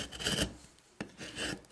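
Chisel scraping burrs off wooden pieces for a raised garden planter, two short rasping strokes, close and quiet, no talking.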